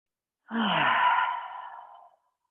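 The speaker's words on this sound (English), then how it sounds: "Just take a deep breath in and out" A single slow, deep breath during a yoga stretching session, about a second and a half long and fading out. It is close and soft, heard alone against silence.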